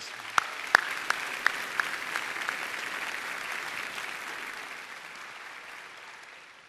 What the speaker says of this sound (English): Let's have a round of applause for our foundation and our donors, please.